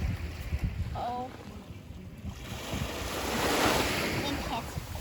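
Caribbean ocean waves heard while sailing, a broad rushing surge that builds louder midway, over steady wind buffeting the microphone and low boat rumble, with faint voices in the background.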